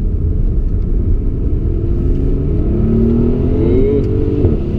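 A Mercedes-AMG S65 engine accelerates hard on a figure-eight track, a loud, deep rumble rising steadily in pitch through the gear, heard from inside the car.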